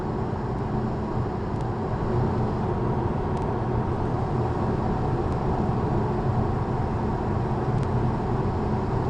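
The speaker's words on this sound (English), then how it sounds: "Wind noise, it needs to be fixed." Wind noise leaks into a car cruising on a motorway, a steady broadband roar filling the cabin, constant and even for the whole stretch with faint occasional clicks.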